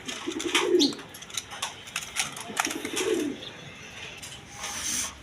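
Two soft, low cooing calls from Indian Kal Dum pigeons, several seconds apart, fairly close and quiet, with faint background clatter between them.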